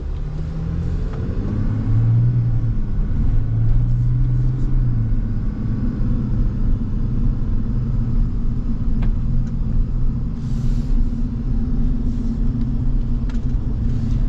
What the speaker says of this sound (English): Oh, this diesel's so smooth. 495 pound-feet of torque.